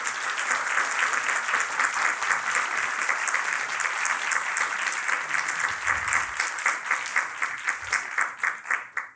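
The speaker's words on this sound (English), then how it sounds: "if you can give one more round of applause to our incredible panelists" Audience at an arts panel convening applauding the panelists, dense steady clapping from a crowd that tapers off into scattered claps near the end.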